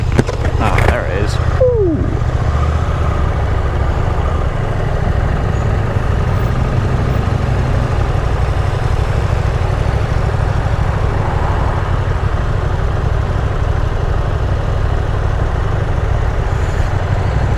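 A 2021 KTM 890 Adventure motorcycle riding along, its steady low engine drone and wind rush continuous throughout, with a voice speaking briefly over it.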